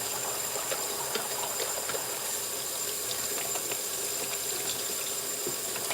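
Water runs steadily into a household sink, a constant hissing splash at moderate distance with faint clicks and small clatters scattered through it and no voices.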